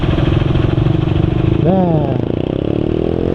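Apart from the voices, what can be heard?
automatic scooter engine running with rattly sound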